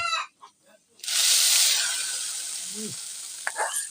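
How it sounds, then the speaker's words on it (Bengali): A hot spice tempering poured into vegetable khichdi made with winter vegetables sets off a sudden loud sizzle after a quiet second, then settles into a fading hiss with a few brief sounds near the end. "এখন আমরা বাগার দেওয়ার জন্য মশলাটা এই খিচুড়ির ভিতর দিয়ে দিব"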